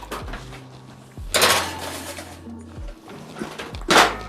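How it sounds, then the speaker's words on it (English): A tray of loaded nachos is slid into a kitchen oven, heard as a few clattering metal thunks and bangs spaced apart, with rack and door knocks in a quiet room. "Let's put this in the oven."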